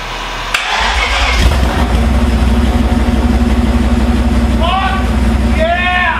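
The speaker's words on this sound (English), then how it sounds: "plug the coil packs back in and then start the engine" A BMW E39 M5 S62 V8 engine cranks and catches after its coil packs are refitted, then settles into a steady, loud idle; a voice cheers briefly near the end over the running motor.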